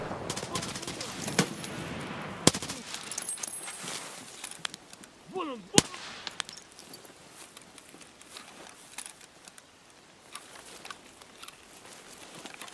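Grenades and gunfire in the Escape from Tarkov shooter during a PvE hunt for the boss Shturman: several sharp blasts and rapid bursts of shots crackle through the scene, with a voice reacting over the din.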